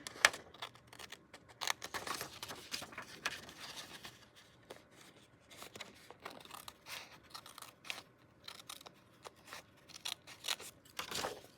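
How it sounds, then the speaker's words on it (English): Scissors snip through old paper ephemera while a handmade journal is worked on, giving quiet, close, crisp cuts in irregular bursts with brief pauses between them and no talking. "Scissors."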